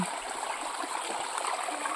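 Continuous rushing of a mountain stream, close by and steady, with bubbling and splashing over rocks and no voices.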